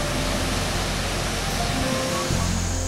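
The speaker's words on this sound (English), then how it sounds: "from Lock 7 in McConnellsville, you can see a beautiful waterfall" Steady broadband rush of a waterfall at Lock 7 on the Muskingum River canal in McConnelsville, continuous and loud with no voices.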